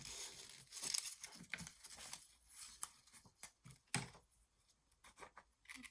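Washi tape being cut off on an index card, heard as quiet close crinkling and tearing rustles with a few sharp snips, in an otherwise near-silent room.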